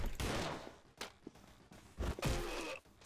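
A few bursts of video game gunfire with booming, echoing tails, spaced roughly a second apart amid scattered thuds, somewhat distant and muffled.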